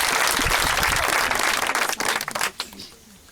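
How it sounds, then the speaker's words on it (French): A church congregation bursts into loud, dense applause with cheering voices, clapping steadily for about two seconds before thinning into scattered claps and fading out. "On acclame très fort le Seigneur."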